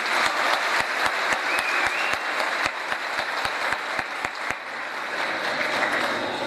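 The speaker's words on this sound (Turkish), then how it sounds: "Onlar için güçlü bir alkış istiyorum." Dense applause from a large seated audience at an evening culture and arts association event, loud and steady for about five seconds with a few sharp individual claps standing out, then thinning slightly near the end.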